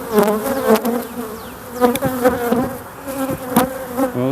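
Honeybees buzz loudly and continuously around an open hive, with several bees droning close by and passing near, along with light tapping and handling noises.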